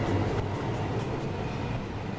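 A New York City subway 2 express train rolls into a station, a steady low rumble and rail noise filling the platform throughout, with a faint announcement-like tone in the background.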